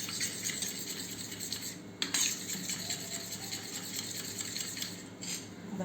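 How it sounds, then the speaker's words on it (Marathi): A spoon whisks yogurt (curd) in a bowl, making rapid, close metallic clinks and scrapes in an even rhythm, with one sharper knock partway through. "आता या दहीला फेटून घ्यायचं व्यवस्थित."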